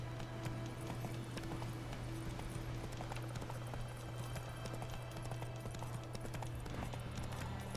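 A horse gallops in The Witcher 3, with rapid rhythmic hoofbeats running steadily throughout over a constant low hum, faint and distant-sounding.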